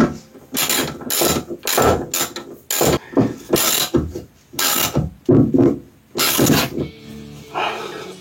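A hand ratchet tightens a 15 mm nut on a car ball joint. It gives repeated bursts of sharp clicking, several quick strokes with short pauses between them, close and alone.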